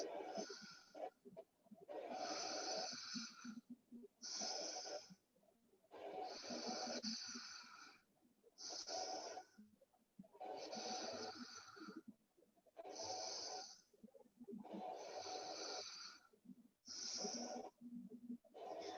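Slow, steady breathing during a guided yoga relaxation, heard as regular cycles of audible inhales and exhales with a slightly snoring, wheezy rasp, close up and alone.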